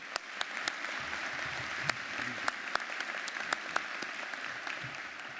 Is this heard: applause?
yes